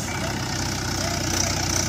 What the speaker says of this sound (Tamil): போர் மோட்டார் வண்டி மாட்டிக்கிச்சு, டிராக்டரை கொண்டு வந்து இப்போ ஏற்றிக்கிட்டு இருக்கோம்.